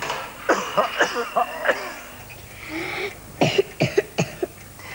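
Repeated harsh coughs sound close up in a cough medicine advert, two rapid bursts of coughing separated by a short pause, with no talk over them.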